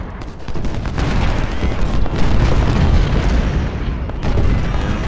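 Dense, continuous artillery and musket fire from Ultimate General: Civil War at the First Battle of Bull Run, heavy booms overlapping into a loud, rolling barrage that never lets up.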